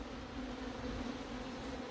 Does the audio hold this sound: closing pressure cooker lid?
no